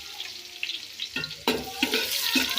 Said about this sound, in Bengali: পেঁয়াজ কষে দিয়ে দিলাম